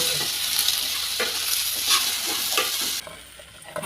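Onion, garlic, sesame seeds and tomato roast in a pan with cumin, dried fenugreek leaves and coriander, giving a steady close sizzle with repeated stirring scrapes, no voices.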